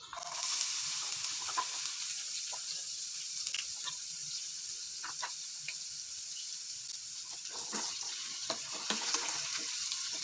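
Onion sizzles in hot cooking oil in a pan for spicy bagoong alamang, a steady bright hiss with occasional stirring clicks, close and alone.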